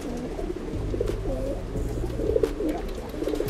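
A young pigeon coos softly and repeatedly in low, throaty murmurs close by, with faint background hum.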